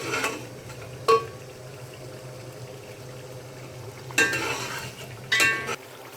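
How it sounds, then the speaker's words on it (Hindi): Masala for tikka biryani roasts in a pan with a steady low sizzle, broken by three sharp scrapes of a spoon stirring against the metal, close and without any voices. "मसाला देखिए अच्छी तरह भून चुका है"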